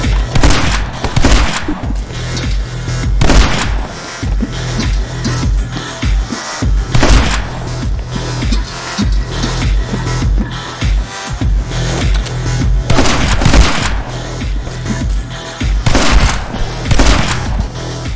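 Rapid bursts of gunfire and booms from the shooter game My Friend Pedro, dense and repeated throughout over a steady rhythmic backing track.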